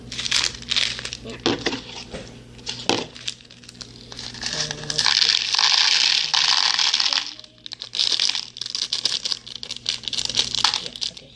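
Plastic wrapping crinkles and rustles in bursts close by, with sharp crackles and a longer sustained crinkle midway; a voice speaks briefly.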